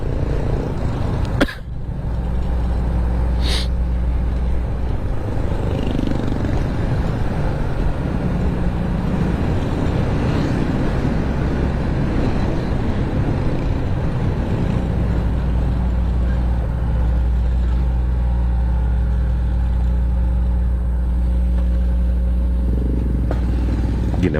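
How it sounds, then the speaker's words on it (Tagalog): A vehicle's engine rumbles under engine braking while driving, a loud, close and steady low drone with wind buffeting and a couple of sharp clatters near the start. "Ginamitan na ng engine brake mga idol para ano, mabilis."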